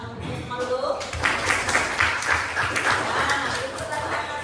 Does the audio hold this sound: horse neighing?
no